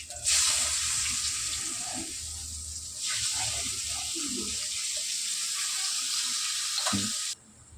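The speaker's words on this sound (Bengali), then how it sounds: "এবার দেবো তেলে পেঁয়াজ কুচি" Chopped onion dropped into hot oil already holding bay leaf, dried chili and cumin, sizzling loudly and steadily with occasional stirring clatter before the hiss cuts off near the end.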